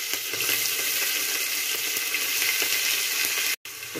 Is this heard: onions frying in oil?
yes